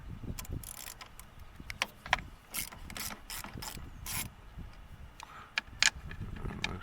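Ratchet socket wrench with a 10mm or 12mm socket and extension loosening battery bolts on a 2012 Hyundai Elantra, giving repeated close, bright clicking bursts in irregular spurts, with no talking.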